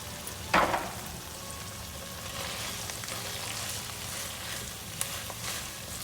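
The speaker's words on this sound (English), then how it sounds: "So I'm going to add the rice now." Cooked rice is added to bottled tomato pasta sauce frying in oil, a brief thump and burst as it drops in, then a steady moderate sizzle with a faint click later, close, no voices.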